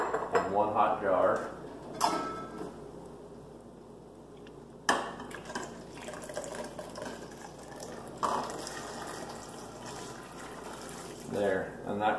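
A hot glass canning jar is set into a pressure canner holding a quart of water while making homemade pasta sauce, with clinking glass and metal knocks, splashing water and a low bubbling, heard close under talking.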